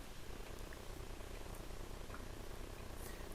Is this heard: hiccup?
no